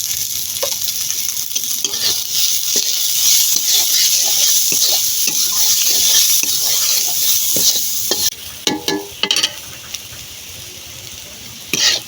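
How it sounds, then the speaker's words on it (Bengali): Onion and garlic frying in a pan with a little turmeric and salt for a pumpkin-lentil-dumpling and bean-seed mash, a steady close sizzle with scraping stir strokes, thinning to sparse clinks near the end. "পেঁয়াজ রসুন ভাজার সময় একটুখানি হলুদ দিয়ে দেবো, একটুখানি লবণ দিয়ে দেবো।"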